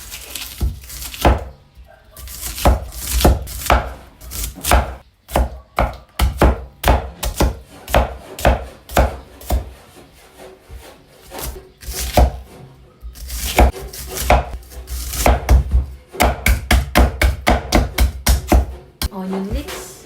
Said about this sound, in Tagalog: Mag-chop lang ako dito ng ating ingredients. Ito ay fresh garlic.